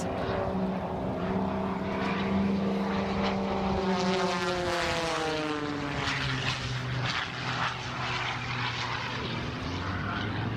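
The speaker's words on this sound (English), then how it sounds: "Explosive, aggressive maneuvers, rapid rolls, and he continues non-stop aerobatics." A propeller aerobatic airplane performs rapid rolls at the NAS Oceana air show, its engine droning loud and continuously. The engine note rises and falls in pitch as the plane maneuvers overhead.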